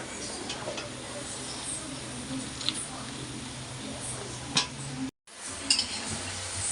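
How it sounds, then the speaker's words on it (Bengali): Bottle gourd leaves being stir-fried in a pan, with a steady low frying hiss, scraping and occasional clinks of a utensil against the pan, and one brief dropout near the end. "লাউ শাক দিয়ে এবার সুন্দর করে একটু কষাই নেব।"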